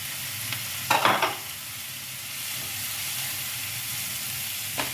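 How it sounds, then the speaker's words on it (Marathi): Soaked moong dal tips into a hot frying pan with chopped greens, giving a short burst of sizzle and stirring near one second before settling into a steady, quiet frying hiss with no talking. "आणि यात मी ही भिजवलेली थोडीशी मुगाची डाळ पण घालते आहे"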